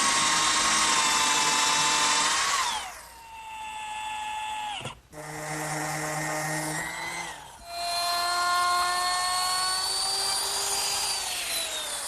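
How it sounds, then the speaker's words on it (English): A power drill runs steadily through a pocket hole jig, boring a 15-degree angled screw hole in wood for a hutch door, a loud close whine that dips and pauses briefly before spinning up again. "it directs the drill at a 15-degree angle"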